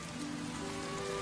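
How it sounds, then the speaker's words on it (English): Steady rain falling outdoors, a continuous dense patter of drops hitting surfaces, fairly loud and unbroken throughout the short stretch with no voices. "Is it still raining?"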